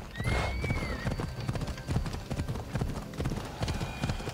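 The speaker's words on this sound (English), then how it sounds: "We got a horse." Hooves clip-clop in a steady trotting rhythm as a horse moves in Assassin's Creed, with a brief whinny early on and faint game ambience underneath.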